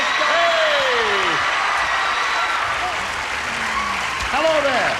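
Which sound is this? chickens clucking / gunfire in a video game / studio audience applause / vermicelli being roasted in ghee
studio audience applause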